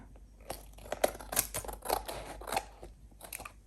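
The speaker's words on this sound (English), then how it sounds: "I'll just cut away the excess here." Scissors snip through excess glued book paper in several close, crisp cuts, each a short rasping slice with soft crinkles between.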